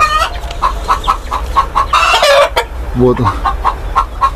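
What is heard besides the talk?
rooster clucking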